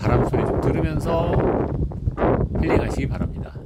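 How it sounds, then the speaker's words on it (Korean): Strong wind gusting across Gwanaksan mountain near a temple, a steady loud roar with surging gusts and rustling, buffeting the microphone; a voice talks briefly over it. "바람 소리 좀 들으면서"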